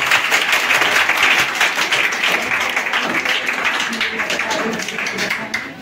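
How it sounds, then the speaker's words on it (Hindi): An audience claps loudly at a prize distribution ceremony held by a coaching institute in 2022-23. Steady, dense applause fills the whole stretch, then tapers slightly toward the end, with voices mixed in. "एक बार अपने लिए आप लोग जोरदार ताली बजाएं।"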